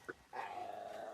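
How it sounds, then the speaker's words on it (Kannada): A dog near a resort in Wayanad, Kerala gives a short yip and then a sustained whining howl lasting about a second, close and clear. "ನಾಯಿ."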